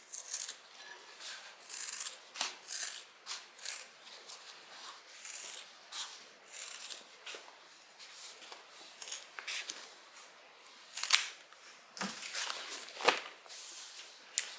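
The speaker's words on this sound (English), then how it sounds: "I usually just cut in right where the bulk starts" Scissors cutting into fabric side seams of a garment while sewing, with a series of short crisp snips and rustling fabric, close up and fairly quiet, with no voices.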